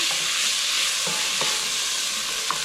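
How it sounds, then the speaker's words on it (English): Peppers, onions and corn sear in a hot pan with a steady, loud broadband sizzle, broken by a few soft stirring clinks and scrapes; no voices. "So I'm just going to keep letting that cook till I can start getting a char on the corn"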